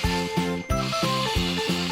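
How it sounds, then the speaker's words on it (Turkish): A remote-control toy bulldozer pushes wooden blocks around a building play set, giving a rough, repetitive motor whine with rhythmic wooden scraping and knocking, close and continuous. "Bunlar bizim ahşap bloklarımız ve ahşap blokları alıp hemen inşaatımıza başlıyoruz."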